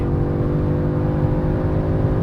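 A 2024 Audi S3 prototype accelerating hard under launch control, a steady, loud engine drone with a rising whir that fills the short stretch without any talk.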